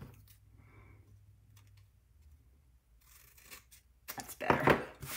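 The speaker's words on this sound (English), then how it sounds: "Let me cut that a little straighter." Scissors cut paper for a paper bag card, giving faint snips and rustles early on, then a louder burst of crisp cutting and paper handling close by near the end.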